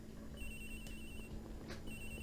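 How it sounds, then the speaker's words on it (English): Cell phone ringing from inside a locker in the video game Ace Attorney Investigations, a steady electronic ring with bright repeating tones under low background music, alone without talk. "The ringing's coming from in here, sir. What? No, it can't be. This has got to be the victim's cell phone."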